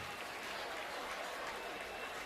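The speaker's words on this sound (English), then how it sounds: "the crowd reacting to him jogging off the field" Football stadium crowd at a college game between Miami and Clemson, a broad, distant wash of applause and cheering that holds steady without any break.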